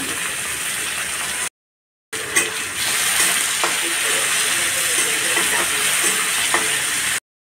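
Chopped tomatoes and finely cut coriander hiss and sizzle loudly in a pan for upma, with stirring scrapes, broken by a brief silent gap early on.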